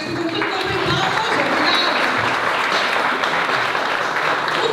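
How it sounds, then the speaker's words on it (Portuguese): Loud, steady audience applause at an anniversary cultural evening, a dense wash of many hands clapping together throughout, close and sustained. "Posso saber porque é que esta conversa não tem palmas?"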